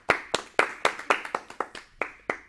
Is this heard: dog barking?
no